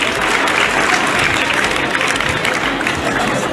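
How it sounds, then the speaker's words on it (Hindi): An audience at a festival stage event claps loudly and steadily for a choreographed dance performance, a dense, sustained wash of applause from many hands lasting the whole stretch. "उनके लिए एक जोरदार तालियां होनी चाहिए।"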